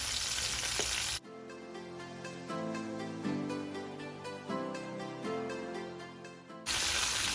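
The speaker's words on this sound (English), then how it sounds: "you see that the lemon butter is already boiling" Steady bubbling sizzle from lemon butter boiling in a pan on the heat, continuous and close, with no voices.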